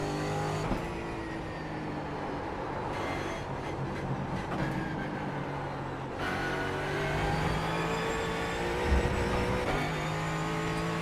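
A Ford Mustang race car engine in the sim racing game iRacing, a steady loud drone with layered whining harmonics that shift as the car accelerates and changes gear, with other cars' engines mixed in.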